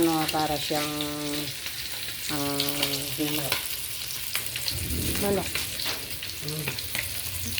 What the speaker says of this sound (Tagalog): So, nagpuprito tayo ng isda